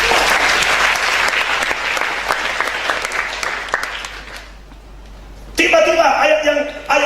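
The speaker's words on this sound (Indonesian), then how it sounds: "Berikan tepuk tangan buat Tuhan." Sustained clapping from a church conference audience fills the room, loud and dense, then fades into near quiet before an amplified voice and music take over.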